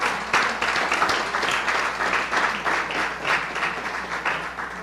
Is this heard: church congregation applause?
yes